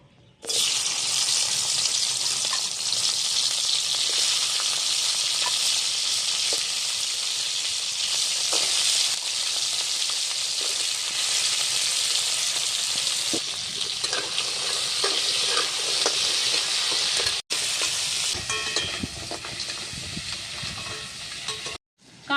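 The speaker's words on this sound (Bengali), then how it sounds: "কড়া গরম হয়ে গেছে এবার কাঁকড়াটা তেলের মধ্যে দিয়ে দিচ্ছি" Crab sizzling in hot oil in a wok, a loud continuous frying hiss with crackling and occasional stirring knocks that runs unbroken for over twenty seconds, with no talking.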